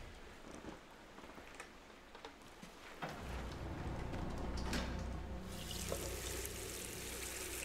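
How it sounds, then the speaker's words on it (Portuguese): Water pouring into a sink in the horror video game The Classrooms, a soft trickle that swells after a few seconds into a steady, fuller splashing rush that continues to the end. "Essa água tá caindo aonde? Tá caindo na pia."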